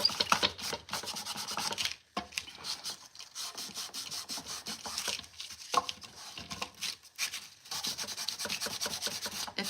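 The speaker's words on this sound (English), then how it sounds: "And I like to sand everything after. So we're just gonna come in and sand." Sandpaper rubs over a chippy painted wooden birdhouse in quick, steady back-and-forth strokes, close and continuous, with a couple of brief pauses.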